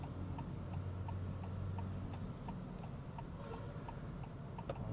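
Steady, even ticking from the turn indicator of a Honda City ZX+ facelift sedan, clicking about five times a second over a low road and cabin rumble while driving, moderately close and fairly faint.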